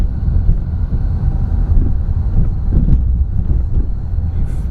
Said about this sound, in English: You can probably hear the road. Yeah, as we're driving.